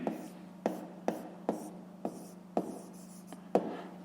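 A pen writes on paper during a fifth-grade maths exercise, producing sharp scratching strokes about every half second over a low steady hum, close and quiet.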